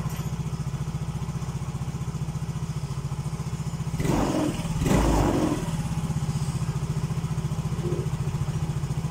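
A Yamaha Mio Soul GT scooter engine idles steadily at a raised idle speed, a close, constant putter with a couple of louder clattering thumps midway and no talk.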